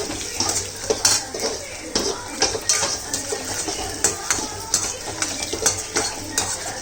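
Spoon stirring and scraping in a pan as ingredients roast for quail gravy, with repeated clinks of utensil on metal over a steady background sizzle, close and moderately loud.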